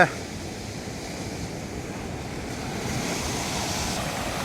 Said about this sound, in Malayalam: ശക്തമായ തിരയാണ് അതിശക്തമായ തിരയും